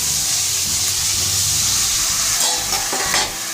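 Water poured into a hot pan of okra being cooked for a mustard dish makes a loud, continuous hissing sizzle and bubbling up close, easing off toward the end.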